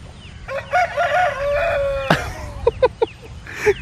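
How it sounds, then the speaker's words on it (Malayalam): A rooster crows in the open countryside along the Valparai to Palani route in India, one full drawn-out crow at close range, then a quick rasping squawk and a few short clucks. "ഒന്ന് കൂവിന്റെ ചങ്ങായി എത്ര നേരമായി ഞാൻ അതിന്റെ പിന്നാലെ നടക്കുന്നത്"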